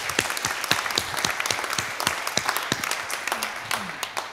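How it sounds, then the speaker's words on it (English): A church congregation gives a round of applause, steady and moderately close, with some voices murmuring underneath. "give a round of applause in our thankfulness to God"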